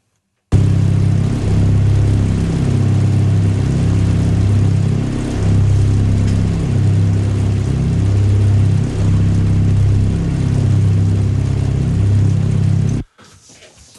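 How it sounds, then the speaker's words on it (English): The kart engine in the Unity Karting Microgame idles at a default 1000 RPM in a steady, loud, looping mid-pitched drone with a regular pulsing rhythm, holding for about twelve seconds before cutting off abruptly. "So as you can hear, we can hear the engine"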